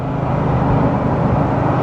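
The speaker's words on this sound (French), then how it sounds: "tu as vraiment un bruit d'admission d'air" Bugatti Divo, an all-carbon hypercar, cruising at about 93 km/h with a steady low engine drone and rushing air-intake whoosh, continuous and close inside the cabin.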